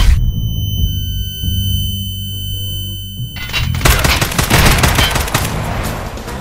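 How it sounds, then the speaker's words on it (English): Gunfire and a grenade blast in a first-person shooter video game, a sudden loud burst of shots and explosion noise that cuts in after a quiet, humming stretch of game ambience. "I killed him with a nade!"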